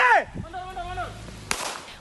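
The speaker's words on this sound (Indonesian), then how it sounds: "Polisi berupaya membubarkan bentrokan dengan tembakan peringatan." A police warning gunshot during a night-time clash: a single sharp, loud crack partway through, preceded by raised voices and followed by a brief echoing tail.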